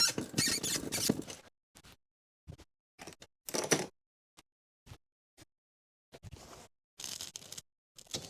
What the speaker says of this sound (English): That plastic's pretty squeaky.